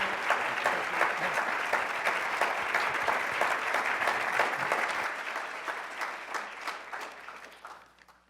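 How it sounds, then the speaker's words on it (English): Audience applause follows the introduction of a keynote speaker at a university disarmament address, a dense, steady clapping from a large hall that holds strong, then thins and fades out over the last few seconds. "Round of applause."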